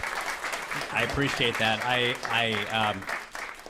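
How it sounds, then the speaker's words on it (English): Audience applause after a fireside-chat panel on New York City's post-pandemic economy, a broad wash of clapping running beneath a close voice that speaks over it. "let's have a great round of applause"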